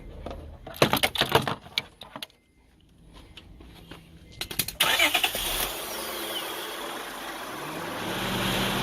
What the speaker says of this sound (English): Start it up? Yeah, start it.